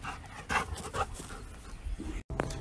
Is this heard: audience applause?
no